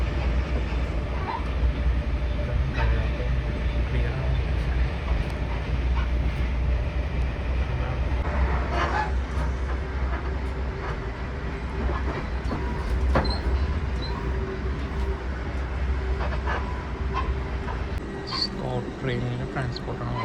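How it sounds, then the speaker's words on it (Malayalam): Steady rumbling drone of a passenger train running on rails in Scotland, heard from inside a carriage, continuous throughout with a voice talking over it. "ട്രെയിനിൻ്റെ ട്രാൻസ്പോർട്ടാണ്"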